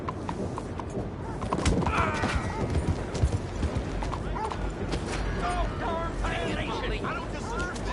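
Galloping horse hooves from Red Dead Redemption 2 pound steadily up close, mixed with a brief whinny and tack rattle, while voices talk over them.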